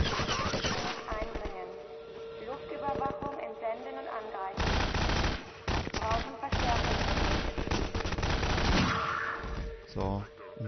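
Rapid bursts of automatic gunfire in the video game Half-Life 2 rattle almost continuously, loud and close, with a voice talking over parts of it.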